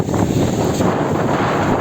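Strong wind buffets the microphone on an inflatable boat with a Tohatsu outboard, heading into the wind, with a steady roaring rush, loud and close throughout, with no voices.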